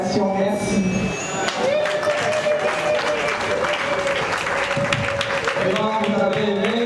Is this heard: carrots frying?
no